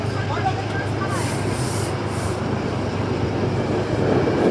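A Metro-North Railroad train with cab car 226 rumbles at Bethel station, a loud, continuous low roar and rolling hiss that swells slightly toward the end.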